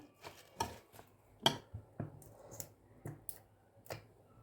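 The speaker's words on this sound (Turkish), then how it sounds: "Bunu şimdi güzelce karıştıralım." Stuffing filling for baked eggplant and pepper dolma is mixed by hand in a bowl with parsley and chili flakes, producing quiet, irregular wet clicks and taps at close range with short pauses.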